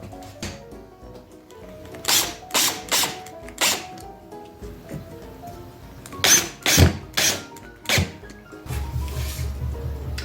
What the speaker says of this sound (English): we're just going to screw these into the bottom here